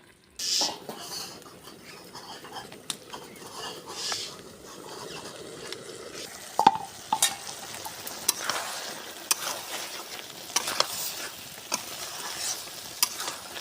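A pot of chicken curry with taro is being stirred, with a spoon scraping and knocking against the pot over a soft, steady bubbling sizzle. The sound is close and continues for several seconds, with no voices.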